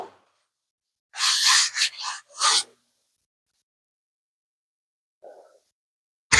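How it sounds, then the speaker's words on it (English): A soft sanding pad rubs over primer in several short, close raspy strokes, bursts of scratchy friction separated by silence, with a faint brief sound later. "I wouldn't recommend sand and primer like this unless you got a soft pad."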